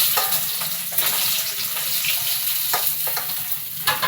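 Bhetki fish pieces frying in hot oil, a dense close crackling sizzle with several sharp spatters and pops.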